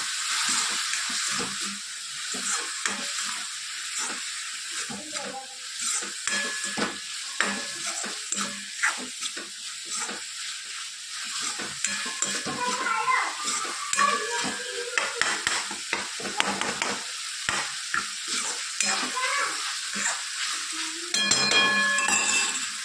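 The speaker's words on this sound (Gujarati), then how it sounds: "સ્વાદ અનુસાર મીઠું, સરસ બધું મિક્સ કરી લઈએ." A spoon scrapes and stirs through a pan of frying spices and salt for a Gujarati dish, soft sizzling under repeated scraping strokes with brief louder clatters near the end.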